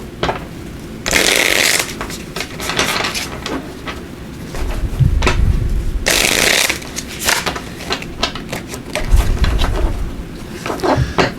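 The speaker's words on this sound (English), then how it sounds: "Let me just give these a little shuffle here" Tarot cards are shuffled close up in two long riffling bursts, each followed by softer taps, slides and handling of the deck, with no voices.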